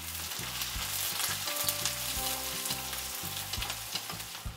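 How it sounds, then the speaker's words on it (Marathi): Mustard seeds, cumin, curry leaves and finely chopped onion fry steadily in hot oil, a dense continuous sizzle with scattered crackles and a low rhythmic scraping of stirring throughout, close and loud, no voices. "हे बघा, आता हा कांदा हलकासा भाजलेला आहे।"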